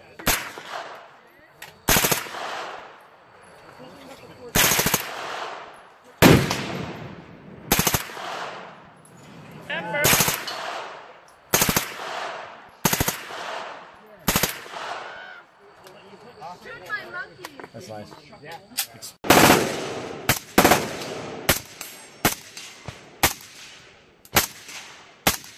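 Gunfire at an outdoor shooting event in Keene, New Hampshire, with a suppressed rifle on semi-automatic: loud, sharp single shots ring out at irregular intervals, then a faster cluster of shots near the end, with people talking between them.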